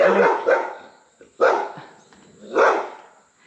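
Dogs in a chicken yard let out three loud barks spaced about a second apart, close by and with no talking.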